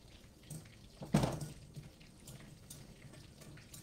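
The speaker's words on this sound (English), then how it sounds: "Here's our 5th piece for this next batch of corn we got frying up." Corn frying in hot grease gives a faint, steady sizzle, with a short louder splash and crackle about a second in, then a quieter bubbling hiss that continues to the end.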